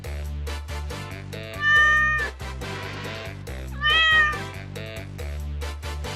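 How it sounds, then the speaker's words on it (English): A house cat meows twice, clear drawn-out cries a couple of seconds apart, close and loud, with no talking. "What animal makes this sound?"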